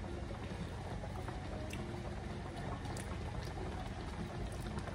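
A pot of sauce bubbles uncovered on the stove for a Haitian bulgur wheat, bean and fish dish, giving a steady, even roiling hiss and bubbling that continues without pause.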